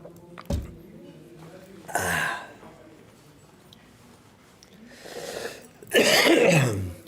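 Several harsh coughs break out at an international chess tournament, one sharp hack followed by longer rough coughing fits, fairly close over a quiet room.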